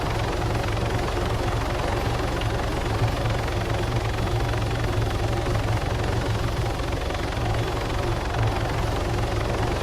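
A helicopter in a video game drones steadily with a loud, close engine hum and rapid rotor thump that stay constant and unbroken for the whole stretch.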